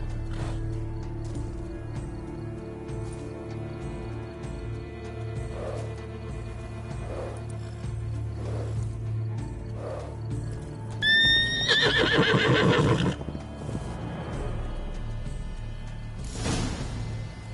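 In The Witcher 3 video game, a horse snorts and whinnies loudly near the middle, with clip-clop hooves and soft ambient rumble around it and no talk.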